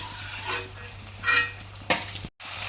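Kalan, a Kerala street-food dish, frying in a pan: a steady sizzling hiss broken by three scraping stirs, close and fairly loud, with a momentary cut near the end.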